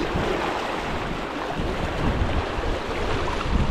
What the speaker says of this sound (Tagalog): Ang lakas ng agos.